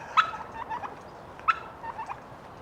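Several gobbling turkeys call out near a walking path around Porthcawl in December, with two sharp prominent gobbles followed by softer trailing bursts, fairly close against a hushed outdoor backdrop.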